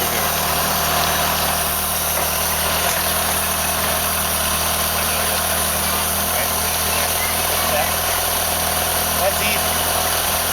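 A 1976 Fiat Spider engine idling steadily and loudly close by after an engine rebuild, an even mechanical drone with a high whine throughout, with people talking over it.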